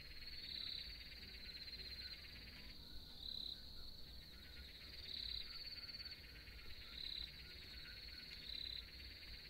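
A cricket chirps at night in steady, high-pitched trilling bursts repeating every couple of seconds, fairly close and alone against a quiet background hum.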